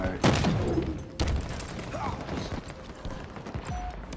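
Stalker rifle shots in Halo Infinite Big Team Fiesta, a couple of sharp, heavy cracks spaced about a second apart, followed by scattered distant battle noise and faint background chatter.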